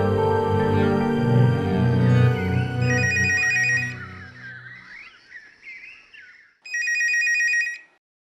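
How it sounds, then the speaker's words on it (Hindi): Telephone ringing in a home, a loud electronic trilling ring in repeated bursts, a pause with faint bird-like chirps, then another burst of ringing before it stops. "मजाल है जो किसी को तौफीक को आके फोन उठा ले। कब से बज रहा है?"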